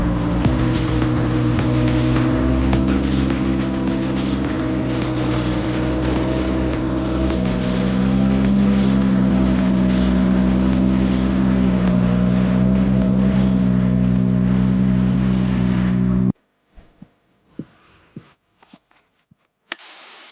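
A Subaru drift car engine runs steadily for about sixteen seconds with a loud, droning, wind-buffeted tone, then cuts out, leaving near silence broken by a few faint clicks and knocks.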